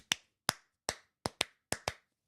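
Seven sharp hand claps ring out alone, tapping a beat in an uneven rhythm with a quick double clap near the middle and another near the end, close and crisp.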